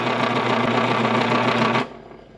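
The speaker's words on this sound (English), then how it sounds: "The razor blade wasn't really making it round enough, so I'm going to see if I can machine rubber." Rubber being machined on a lathe, a steady whirring cut with a harmonic hum that holds loud and close for under two seconds, then stops abruptly and fades out.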